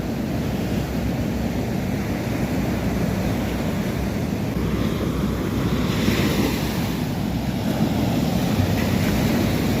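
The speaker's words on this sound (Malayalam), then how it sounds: "കടൽ നന്നായിട്ട് കയറി കിടക്കുകയാണ് കേട്ടോ" Sea waves surge up the shore beside a seaside pavilion for ritual offerings, a steady loud roar of surf with wind buffeting the microphone throughout.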